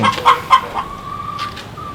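Chickens in a backyard coop cluck in short repeated bursts, one drawn-out call ringing clearly near the end, close and fairly loud.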